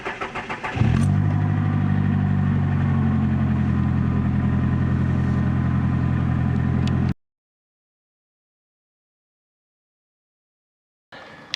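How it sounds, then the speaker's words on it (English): A 1987 Toyota Camry engine cold-starts with a brief crank, then settles into a steady, loud idle close by for several seconds before cutting off abruptly into silence. "here's a cold start just because"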